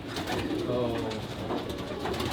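Racing pigeons coo in a loft, a soft, continuous burbling of several birds close by, with a voice speaking over them.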